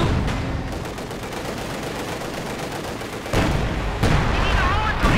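In Company of Heroes 2, a Sturm Panzer tank gun fires on a T-34 amid a dense wash of battle noise, with heavy booms landing near the end and a commentator talking over it.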